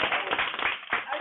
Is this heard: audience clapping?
yes